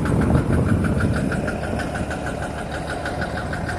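A Massey Ferguson 95x diesel tractor engine runs steadily at idle with a regular knocking pulse, close and loud throughout, with no talk over it.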